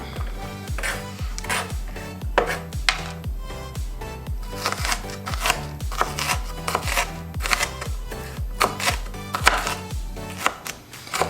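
Vegetables being chopped for chili con carne, including half a shallot, make a brisk, regular series of knife thuds on a cutting board, close and evenly paced, with no talking.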